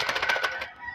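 A captive alimokon bird calls in a quick run of bright, repeated notes that fade out toward the end, fairly close and alone with no voices.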